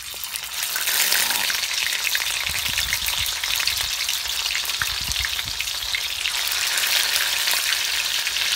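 Lamarang fish tail frying in hot oil, a dense close-up sizzle rising sharply after the first second and holding loud and steady, with faint bubbling pops and no speech.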